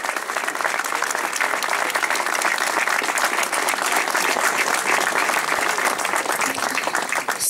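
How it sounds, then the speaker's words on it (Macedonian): Sustained, dense applause from a crowd at a political rally for a municipal election team, loud and steady throughout with a slight dip near the end. "Еден мал аплауз ако може за тимот кој што ќе ја предводи општината во наредните 4 години."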